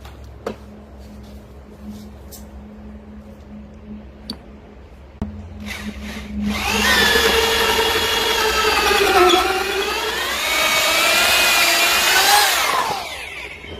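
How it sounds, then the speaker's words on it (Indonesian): A power drill in regular drill mode bores into camphor wood. A few sharp clicks and a low hum lead into a loud, steady, high-pitched whine that runs for several seconds, wavers briefly midway, then cuts off. "Kita coba ini di mode bor biasa ya. Kita coba ini medianya kayu kamper ya seperti biasa ya."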